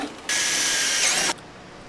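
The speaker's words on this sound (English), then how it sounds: "I'm gonna drill right into my PVC pipe, which is gonna hold all of our weight for the striping." A power drill bores into PVC pipe on a DIY lawn striper, one steady high whine lasting about a second before stopping abruptly, close and fairly loud.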